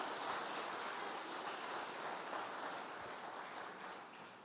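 Steady, dense clapping from a church congregation fills the space, a broad rain-like wash of applause that holds at a constant level before tapering slightly.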